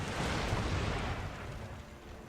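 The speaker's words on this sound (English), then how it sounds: "The mortars." Mortar fire in the video game Empire: Total War, a dense, rumbling low boom and wash of battlefield noise, fairly faint and continuous, fading slightly toward the end.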